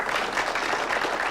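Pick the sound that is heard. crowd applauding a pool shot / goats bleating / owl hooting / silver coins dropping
crowd applauding a pool shot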